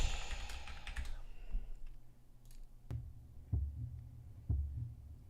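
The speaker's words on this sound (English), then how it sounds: "some kind of heartbeat sound" Keyboard clicking and typing fade out, then a heartbeat sound effect for a video game in progress gives a few soft, low thumps spaced about a second apart.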